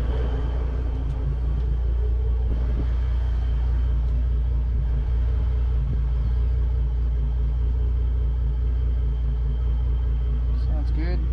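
A Mercury Verado outboard boat engine runs close by with a steady, loud, low rumble and constant drone throughout, with speech heard over it.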